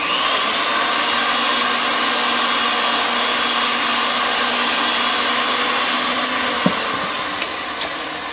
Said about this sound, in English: the machine spins pretty quick, you'll see